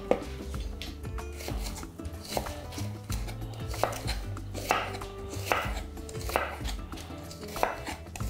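Onions are sliced lengthwise with a knife on a board, with quiet, steady rhythmic chopping taps close by and no voices.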